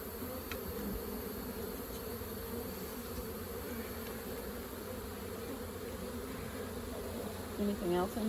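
Honey bees nesting inside a house wall hum steadily and fairly loudly throughout, with a short rustle or knock near the end.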